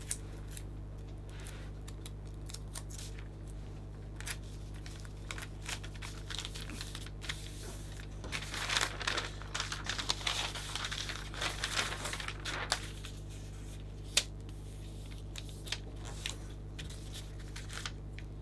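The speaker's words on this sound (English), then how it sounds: "If you actually just take a piece of tape and roll, we can just add underneath and hold in place." A tiny piece of tape being torn and rolled between the fingers for a Christmas hand-tied craft, heard as close, soft crinkles and sharp little rips in a cluster midway, otherwise faint scattered handling clicks.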